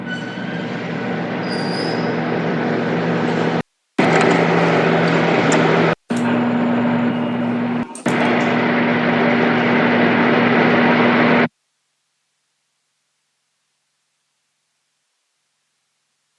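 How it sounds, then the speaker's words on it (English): Lathe bar feeder pushing bar stock through the spindle, a loud continuous mechanical whir with a steady hum, broken by short dropouts, running about eleven seconds and then stopping to silence. "This bar feeder is actually pushing the part from the back side of the spindle, so there's constant pressure on it."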